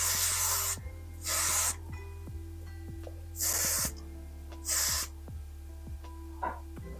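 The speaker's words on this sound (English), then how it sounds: "Spray, spray, spray." Hair spray hisses from a can in four short bursts, close and loud, each separated by a pause, with faint clicks and a steady hum of a quiet room in between.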